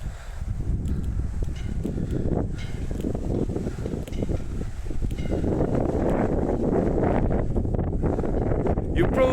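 Strong wind buffets the microphone outdoors at the Bannockburn battlefield near Stirling, a steady broadband roar rising slightly later on with no spoken words.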